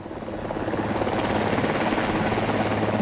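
Rescue helicopter hovering over floodwaters in Rio Grande do Sul, lifting people one at a time by steel cable; a steady, loud rotor roar and engine drone fill the whole clip with no talk.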